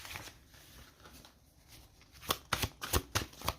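Oracle cards are shuffled by hand, starting as a soft rustle and then turning into a quick run of crisp riffling flicks, close and fairly quiet.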